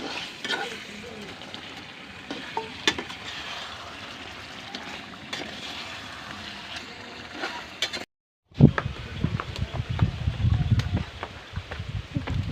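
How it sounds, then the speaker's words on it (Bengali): Meat frying on a clay stove crackles and sizzles softly with stirring scrapes, then after a brief break the sizzle comes back louder and closer. "এখন মাংসটা আমি দিয়ে দিব চুলাতে"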